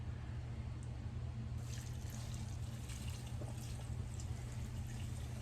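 Molasses water is tipped into a worm bin bedding of socks, giving a soft, steady pour and trickle over a constant low hum, with no voices.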